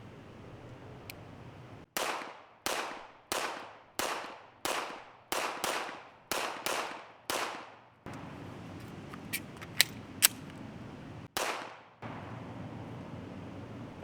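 Close, loud shots from an HK45 CT .45 pistol, about a dozen in quick succession with a short pause midway for a magazine change with clicks and handling, then one more shot.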